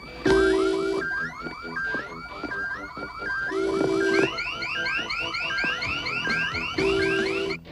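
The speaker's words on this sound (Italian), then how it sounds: "È il mio allarme." A car alarm blares outdoors at night, cycling through loud repeating patterns of rising whoops, warbles and steady tones, continuous and close for several seconds with no voices over it.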